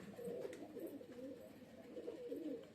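Ilyas Bhai's pet pigeons cooing softly in a steady, rolling rhythm, several low throaty calls overlapping at moderate distance with faint background noise.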